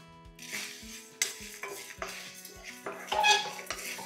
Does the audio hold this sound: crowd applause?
no